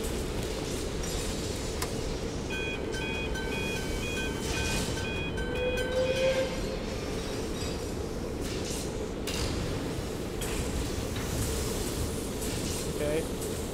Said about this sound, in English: this train is so loud